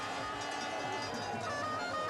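Swiss spectators cheer at a 1993 cyclocross world championship race, a loud, dense crowd roar that holds steady without a break.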